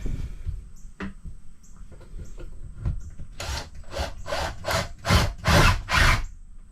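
Pocket screws driven into wood during a woodworking build, heard as a run of loud, rhythmic gritty bursts close by after a quieter stretch of scattered knocks and handling noise.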